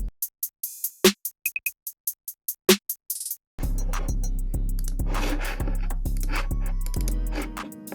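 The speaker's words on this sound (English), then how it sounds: "Then I added in this clav percussion sound." A clav percussion sample in a sample-based hip-hop beat, a few short tonal knocks and clicks playing alone at first before the full loud beat enters with bass, drums and melody.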